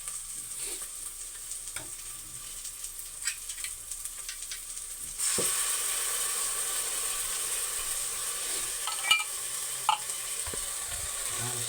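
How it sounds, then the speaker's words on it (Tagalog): Sardines sizzle and fry in a pan with sautéed garlic and onion, the frying steady while a utensil stirs and scrapes in scattered clicks; the sizzle swells louder midway. "Lagyan na natin itong sardinas."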